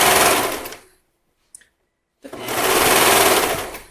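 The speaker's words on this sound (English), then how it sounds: "I'm going to go to my darker serger here" A serger stitching a leggings seam runs in two loud, close bursts, whirring fast for about a second, falling silent with a couple of small clicks, then starting up again for over a second.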